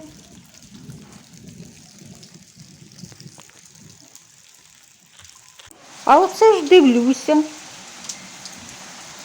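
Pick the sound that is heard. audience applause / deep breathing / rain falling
rain falling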